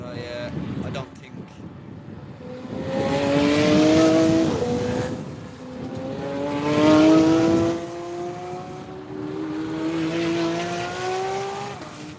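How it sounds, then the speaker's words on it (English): Race cars roar past on a racetrack in three separate passes, each swelling loud and then fading with a falling engine pitch, with wind buffeting the microphone in between. "sorry, I just wanted to wait for the cars to pass"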